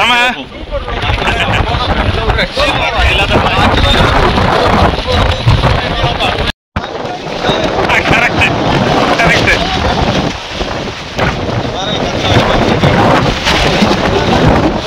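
Strong gusting wind roars loud and continuous across a stormy Himalayan mountainside, buffeting the microphone with rumbling, rain-like noise, broken by one brief dropout midway.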